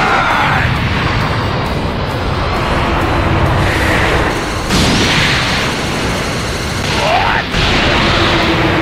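Dragon Fist Explosion attack in the Dragon Ball Xenoverse 2 video game: a loud, dense roaring blast with rushing noise and a few heavier booms around the middle and toward the end, close and powerful.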